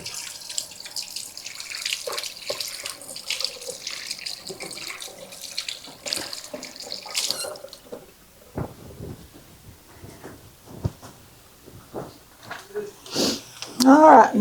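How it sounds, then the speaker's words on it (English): Tap water runs into a kitchen sink while hands are washed and warmed, a steady splashing wash that thins out into scattered drips and handling noises near the end. "I'm going to wash my hand and warm it up because it's cold"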